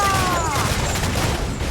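Ship cannons in the video game Assassin's Creed IV Black Flag fire in a dense, rumbling barrage, a loud continuous roar of blasts that runs for under two seconds.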